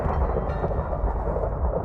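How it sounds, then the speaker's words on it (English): Minecraft thunderstorm: a steady, loud wash of rain-like noise with low rumbling throughout, continuous and close, with no speech over it. "Okay, thunderstorm."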